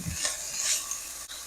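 Cuban sofrito with pressed garlic sizzles over medium heat in a pan while being stirred, a bright steady hiss with a brief scrape of the spoon near the end.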